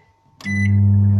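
An 800-watt microwave oven starts up with a short click, then settles into a steady, loud hum that runs on alone without any voices.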